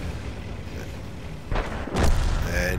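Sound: tank cannon shot in the video game World of Tanks

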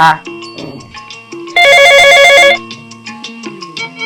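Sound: telephone ringing

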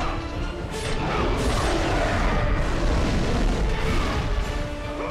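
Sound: enemy exploding in video game God of War II

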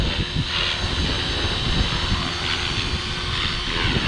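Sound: Walkera 450V RC helicopter flying in wind

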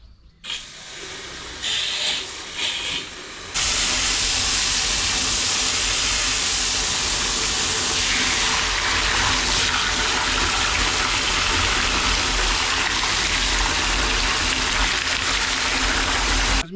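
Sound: water running while mixing fungicide in bucket

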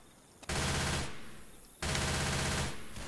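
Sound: SMG gunfire in the video game Left 4 Dead 2

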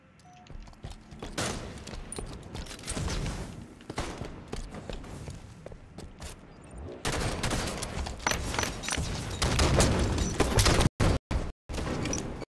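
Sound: gunfire in Halo 5 Guardians video game

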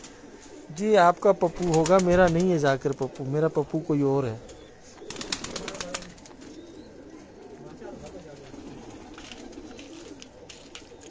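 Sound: Kamangar pigeons cooing on a rooftop

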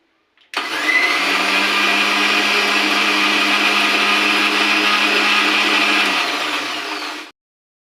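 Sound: mixer grinder blending food to paste

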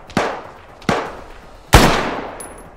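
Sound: gunfire in the video game ArmA 3

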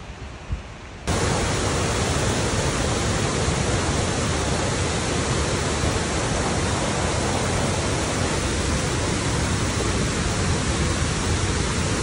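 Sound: waterfall

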